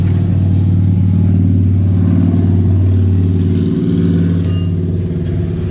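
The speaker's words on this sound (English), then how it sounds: "Comes a motorcycle." A motorcycle passes nearby, heard as a steady, loud low engine drone with a mild rise in revs over several seconds, set outdoors during a 2008 Honda Rancher front brake pad job.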